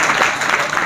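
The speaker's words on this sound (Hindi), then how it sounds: "जोरदार तालियां बजा दीजिए इनके लिए।" Audience clapping for board exam toppers at a gathering of students due to sit their board exams, a brief dense burst of steady applause.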